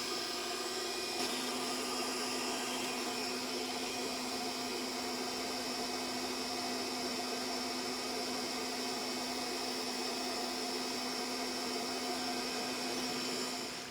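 A 3D printer part cooling fan blows air through a smooth-walled duct tube, making a constant close whirring hiss with a steady tonal hum that holds evenly to the end.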